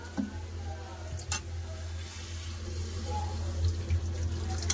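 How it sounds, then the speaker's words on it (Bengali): Water is poured into a pan of pumpkin and potato curry, giving a soft, continuous splash with a light sizzle and a few small clinks over a low kitchen hum. "এবার দিয়ে দেবো জল, পরিমাণ মতন জল দিয়ে দেবো"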